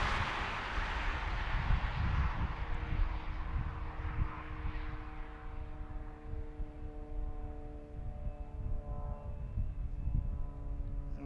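Jet aircraft taxiing at Philadelphia airport, a heavy low engine rumble with a broad roar and steady whining tones that slowly shift in pitch, continuous and moderately distant, mixed with wind noise.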